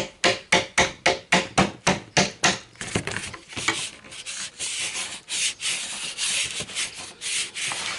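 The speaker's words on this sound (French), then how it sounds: "ça fallait que je le nettoie, que je le dérouille" A small rusty steel strip from a car's rear window fitting is scrubbed clean of rust with quick, rhythmic back-and-forth rasping strokes, about a dozen sharp ones, then looser, irregular scrubbing, close and fairly loud with no talking.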